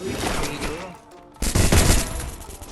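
Gunfire in Free Fire comes as bursts of rapid shots, close and loud. A brief lull separates them before a denser, heavier volley, with faint talk in the background.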